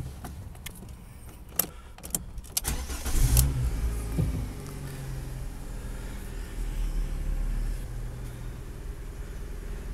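A Fiat Doblo wheelchair-accessible car engine starts up after a few clicks and knocks, then settles into a steady low idle that runs on unbroken, close and fairly loud.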